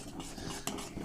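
A utensil scrapes and swirls through milk in a pot as powdered milk is stirred in, a soft continuous stirring with one sharper clink.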